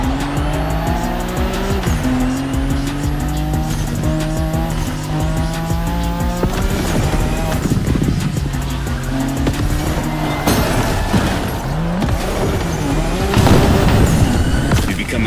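Nissan Skyline race cars in The Crew Motorfest roar loudly and continuously, with engines revving through gear changes and tires squealing and skidding through corners.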